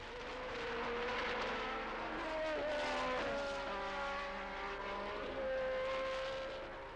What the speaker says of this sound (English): But by the time the cars came round to complete the first lap, Jones was where he was expected to be